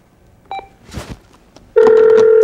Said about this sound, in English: See if I can dial the phone correctly.